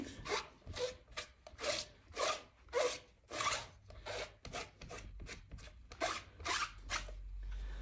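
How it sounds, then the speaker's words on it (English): A red rubber stamp scrubbed clean with steady, rhythmic rubbing strokes, close and fairly loud, each swipe a soft rasping pass repeated about twice a second with no talking. "I will clean this stamp, and I will clean it here."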